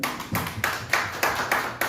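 A church congregation claps in unison during a Sunday service, about seven evenly spaced loud claps in a steady rhythm, close and clear with no talking.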